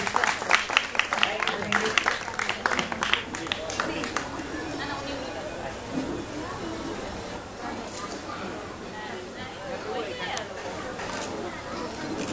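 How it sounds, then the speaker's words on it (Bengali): Clapping for small children lighting a ceremonial lamp at a club inauguration: a burst of crowd applause that fades into chatter and murmuring voices. "সবাই মিলে জোরে হাততালি"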